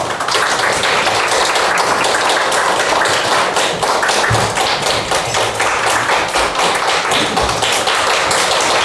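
A church audience at a Reformation 500th anniversary lecture breaks into continuous, dense applause, loud and sustained throughout, welcoming a professor to the front.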